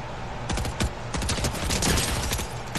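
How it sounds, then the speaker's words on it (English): Rapid bursts of submachine gun fire from a video game, several quick volleys in close succession, loud and close with no talking over them. "One gun challenge. Starting off with SMG."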